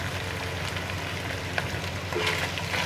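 Potatoes and carrots frying in a pan with keema and vegetables for macaroni: a constant, dense sizzle with a few soft stirring scrapes, no voices.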